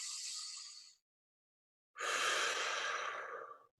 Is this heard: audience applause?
no